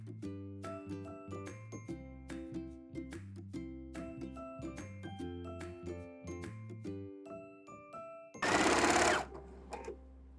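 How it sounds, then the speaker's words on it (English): A sewing machine stitches in the fold of bias tape around a dress armhole in several short, rhythmic bursts with pauses between, ending in a brief louder whirring run. "So now we're gonna sew in the fold of the bias tape."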